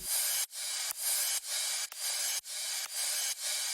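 Crash cymbals in an LMMS future house drum pattern strike about twice a second, each bright, hissy wash cut off by the next into a continuous, pulsing shimmer with no other sounds.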